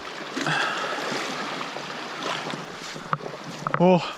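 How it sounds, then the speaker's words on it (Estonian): A strong river current on a Lapland fishing trip rushes and hisses steadily in a broad, close wash of water, with light wind buffeting and a brief knock and squeak at the end. "Vool on sitaks tugev."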